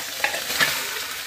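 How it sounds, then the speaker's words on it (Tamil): Potato mixture for aloo chapati sautés in hot oil with a steady sizzle, broken by two short scraping stirs of a spatula against the pan, close and clear with no talk. "போட்டு நல்லா வதக்கணும்."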